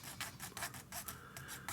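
Fine-toothed Dspiae hobby saw cutting with quick, rasping back-and-forth strokes, about six to seven close bursts in steady rhythm, fairly quiet and heard alone.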